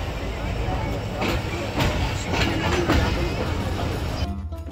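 The Hazara Express passenger train running toward Rohri Junction, heard from on board: a loud, continuous rumble of wheels and carriage with rhythmic clicks, ending abruptly.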